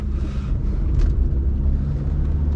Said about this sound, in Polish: postawię kamerę i odjadę troszeczkę